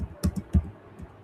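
Close keys on a computer keyboard clatter briefly, with a few sharp clicks bunched near the start and one more soft tap a moment later, in an otherwise quiet room.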